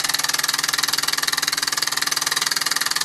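A 1949 Mamod SE2 model steam engine runs down after its throttle is shut off, giving a steady rapid mechanical chuffing and knocking beat, loud and close with no talk.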